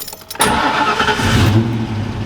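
A Ford Mustang Foxbody's engine cranks and catches after a brief moment of quiet, then settles into a loud, close, rough idle firing on all eight cylinders, with no voices.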